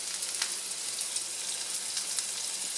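Salmon fillet pan frying seasoned side down, giving a steady close crackling sizzle with scattered small pops, heard alone without voices.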